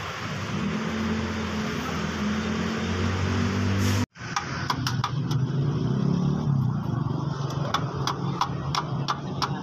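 A service car's starter cranks the broken-down engine in a steady, grinding run of about four seconds that cuts off abruptly. Scattered clicks follow, with faint voices nearby.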